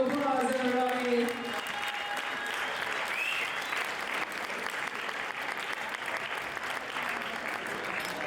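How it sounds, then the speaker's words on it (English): Applause from guests at a wedding reception, a sustained burst of clapping that follows a short voice at the start and carries steadily at moderate volume to the end. "Give her a big round of applause, everybody."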